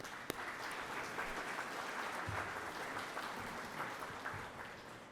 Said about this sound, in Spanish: Lourdes Hernández e Itzel Caneida, para quien pido un aplauso por su apoyo